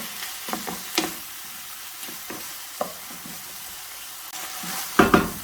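Chicken and sugar caramelize in a pan, a low frying sizzle broken by several sharp stirring clatters of a utensil against the pan, with a louder burst of scraping near the end.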